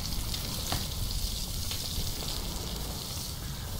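A crab sizzles over a campfire on a beach in the survival game Stranded Deep, a continuous crackling fry with faint popping, steady and close.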